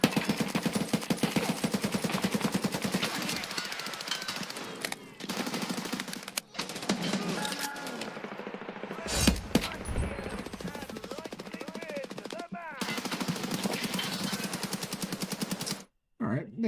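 A teammate in an online arena shooter fires shot after shot in a long, rapid, evenly spaced string of sharp gun cracks, with a few short pauses and a voice talking over the shooting.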